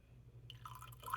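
Water drips and trickles into a white paint mixture being thinned for upcycling a box, quiet at first and building to a brief splashy fill near the end.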